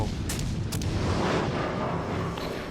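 Heavy naval guns fire in World of Warships: Legends aboard the legendary cruiser Alaska, a continuous deep rumbling barrage with a couple of sharp bursts early on and no talking.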